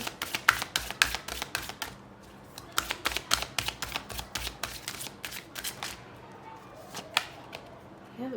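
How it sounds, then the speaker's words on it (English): Tarot cards are shuffled and pulled in quick, crisp flurries of snapping riffles, close and soft, coming in uneven bursts with short pauses between them. "We'll just pull out more cards"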